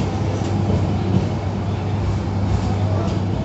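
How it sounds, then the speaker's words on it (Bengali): The Cox's Bazar Express passenger train from Dhaka pulls into the station at Cox's Bazar, a loud, steady low rumble of rolling carriages filling the whole stretch. "প্রথমবারের মতো ঢাকা থেকে যাত্রী নিয়ে পর্যটন নগরীতে হুইসেল বাজিয়ে প্রবেশ করেছে কক্সবাজার এক্সপ্রেস"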